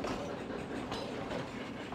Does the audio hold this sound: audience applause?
no